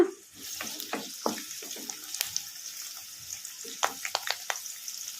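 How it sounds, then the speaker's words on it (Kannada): Onions and curry leaves frying in a pan for hotel-style sherva, a quiet sparse crackle broken by several sharp spoon scrapes and stirring clinks, with no voices. "ಉಳ್ಳಾಗಡ್ಡೆ ಒಂದು ಸ್ವಲ್ಪ ಫ್ರೈ ಆಗಿದಾವಲ್ಲ"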